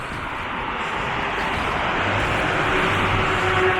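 Steady, loud engine drone with broad rushing noise from inside a small plane in flight between Westminster and Boulder, constant with no voices.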